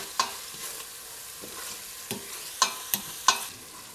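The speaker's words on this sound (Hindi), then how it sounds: "और इनको अच्छी तरह से भून लेंगे।" Masala with chopped green fenugreek leaves frying in a pan with a little water for Punjabi kadhi pakora: a low steady sizzle broken by several sharp scraping stirs, close and moderately loud.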